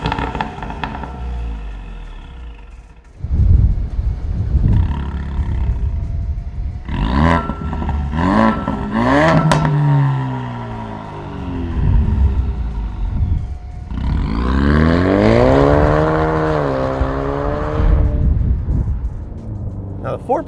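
2018-2023 Ford Mustang EcoBoost fitted with a Ford Performance Borla touring exhaust, giving loud deep revs that rise and fall in several bursts with some crackle, alternating with spoken commentary between pulls.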